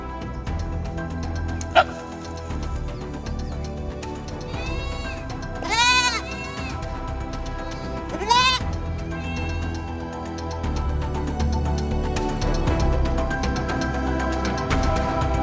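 Goats bleat in a few loud, wavering calls over a constant background hum, one close cry standing out amid the animal noise, with no voices.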